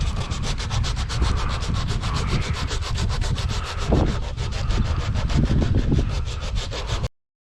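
Hand-held 60 grit sandpaper rubs in quick, steady back-and-forth strokes during a work truck mirror repair, a close, continuous rasp that cuts off abruptly.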